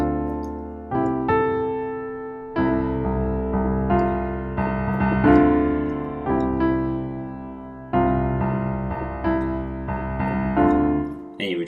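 Piano playing a looping melody, with repeated low C octaves in the left hand keeping the same rhythm under the right-hand line; the phrases restart at steady intervals, clear and fairly close.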